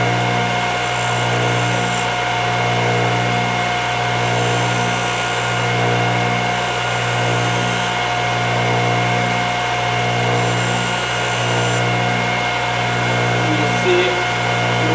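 A Thorvie AV-40 sharpening machine's motor hums steadily while a router bit is passed back and forth across its grinding wheel, a close, continuous whine with a faint periodic swell and no voices.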